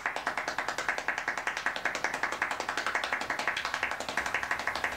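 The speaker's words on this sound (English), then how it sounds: "I think we'll go for 14 claps per second." Very rapid, steady clapping at about fourteen claps per second, a dense, even rhythm of sharp crisp claps held for several seconds, close and loud with no talking.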